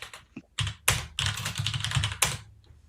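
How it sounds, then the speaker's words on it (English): Keys on a computer keyboard clatter in quick, uneven bursts of typing, close and fairly quiet, with short pauses between runs of keystrokes. "I hear the keys, Aaron."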